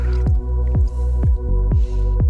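Water squirts out a sluice box, flushing its contents of Home Depot sand into a bucket. The wet squishing and dripping come in about five regular bursts over a steady liquid background.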